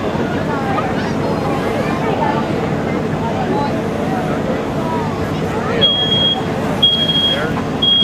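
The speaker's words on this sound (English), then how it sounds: "smoke detector just went off at 20 seconds" A smoke detector in a fire company's flashover simulator beeps in short, piercing chirps about once a second toward the end. Steady roaring noise and crowd chatter run underneath.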